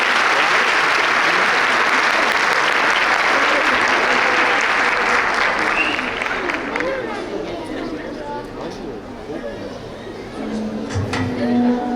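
Sustained applause from an audience welcoming the Erzincan children's choir onto the stage, dense and steady at first, then thinning slightly with scattered crowd murmur before swelling again near the end.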